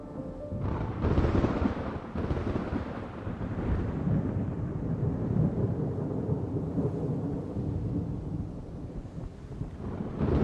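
A dense, rumbling thunderstorm inside the storm clouds over Seirai Island in the video game Genshin Impact, with a sharp thunder crack about a second in, then a sustained roar of wind and storm noise that stays loud to the end.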